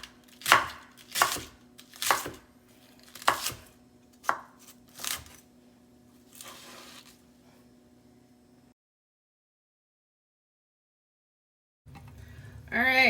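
A knife chops through a whole head of cabbage on a cutting board in about eight sharp, evenly spaced thuds that grow softer. Silence follows, and a voice comes in at the end.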